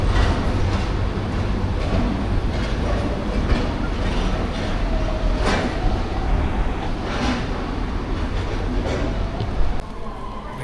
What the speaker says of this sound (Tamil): மெட்ரோ ஸ்டேஷன் வந்தாச்சுங்க. ட்ரெயினும் வந்துருச்சு.